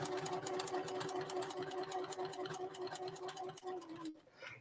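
A sewing machine quilts a first quilt, stitching with the same thread used for the piecing. It runs in a steady, close, continuous whir with a rapid needle rhythm for about four seconds, then stops abruptly.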